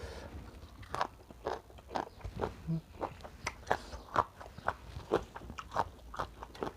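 Cassava leaves are chewed close up with soft, rhythmic crunches and bites repeating roughly twice a second, fairly quiet and with no talking.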